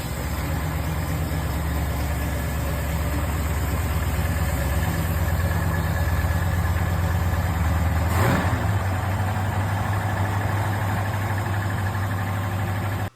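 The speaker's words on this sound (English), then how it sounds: "It's a Olds 455, flat tappet cam, Edelbrock heads, and some performance stuff." An Oldsmobile Cutlass with an Olds 455 V8, flat tappet cam, Edelbrock heads and performance parts runs during engine break-in, holding a loud, steady, rumbling idle close up, with a brief rev near the end before it cuts off.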